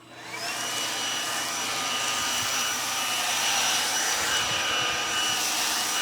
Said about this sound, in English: This is definitely going to be the quietest of the blowers and the lightest